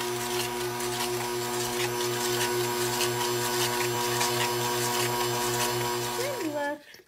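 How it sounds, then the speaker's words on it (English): Electric mixer whisking whole wheat cake batter without butter at high speed, a steady humming whir with a rapid regular pulsing beat, close and continuous until it winds down and stops at the end. "good whisk at medium speed for about 3 minutes."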